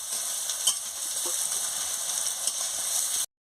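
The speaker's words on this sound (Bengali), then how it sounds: "অল্প নুন দিয়ে ভালো করে পেঁয়াজটাকে ভেজে নিচ্ছি।" Chopped onion frying with a little salt in a pan for a chicken curry, a steady bright hiss of sizzling oil with a few soft stirring clicks, close and continuous before cutting off abruptly.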